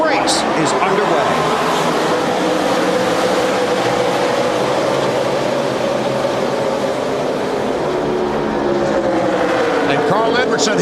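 A field of NASCAR race cars roaring away at the green flag of the Ford 400 championship race, a dense, loud, continuous engine drone from the whole pack.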